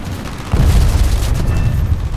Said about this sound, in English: Okay, bombs away.